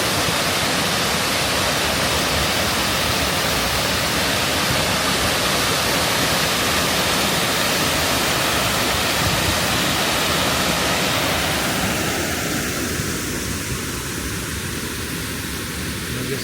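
A river near George L. Smith State Park in Georgia rushes in a dense, continuous broadband wash that stays loud and steady throughout, easing slightly toward the end, with no voices.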